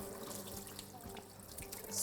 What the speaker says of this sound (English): And once they're in the colander, I'm going to drizzle some cold water on top.